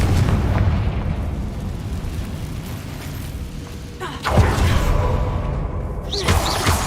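Spell blast from the Confringo fire curse in a Harry Potter video game, erupting as a loud burst with a whooshing rush over a dense rumbling background, followed by further crackling impacts.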